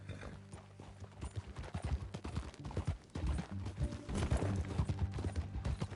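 Horse hooves clip-clop in a console video game as a rider leads a horse along, a steady rhythmic stream of hoofbeats close by with occasional mechanical clicks and a faint whinny.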